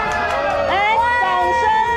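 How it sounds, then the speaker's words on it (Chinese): An audience at a book signing event cheers and shouts to welcome a mystery guest, a loud, dense burst of voices rising and falling over steady crowd noise. "那我们最热烈的掌声欢迎神秘嘉宾"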